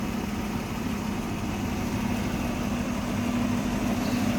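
A 1965 Ford Mustang convertible engine idles steadily and smoothly, a continuous low rumble with an even hum that holds at a constant level throughout, close by and with no voices over it.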